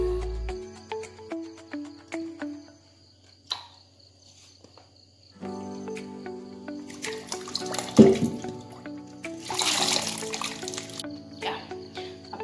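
Grapes are washed in water at a sink, with running tap water, splashing and swishing from handling. A steady insect chirp runs through the background, and the washing grows louder in the second half.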